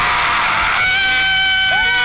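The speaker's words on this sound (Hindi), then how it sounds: "ये कौन चिल्ला रहा है?" Loud, close screaming in a horror video game: a harsh, noisy shriek that narrows into sustained high wailing tones with a brief upward squeal near the end.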